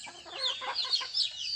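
Native free-range chickens raised in the province cluck nearby in short, overlapping bursts, several birds sounding close and clear.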